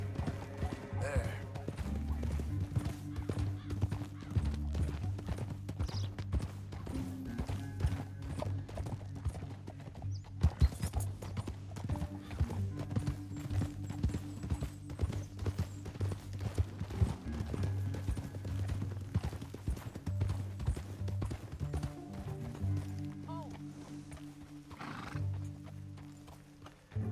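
Horse hooves clip-clop and gallop steadily through a Red Dead Redemption game scene, with whinnies, background music and voices talking over the rhythmic hoofbeats.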